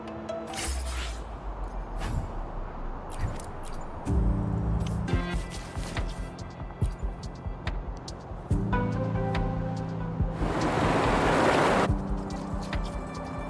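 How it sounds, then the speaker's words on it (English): A loud rush of water draining away surges briefly near the end, over layered game music and tones in the game Wuthering Waves. "the water is going down."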